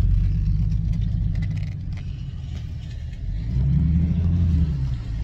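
A Chevrolet Camaro 5th gen's engine runs steadily at idle with a deep low rumble, then swells into a brief rev near the end before settling again, with no voices heard.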